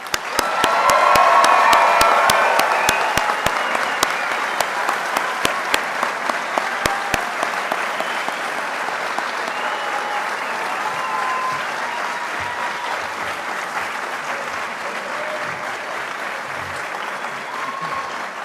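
An audience applauds a graduating police recruit class at a ceremony, sustained loud clapping that swells early then settles into a steady dense patter with some cheering, continuing for many seconds.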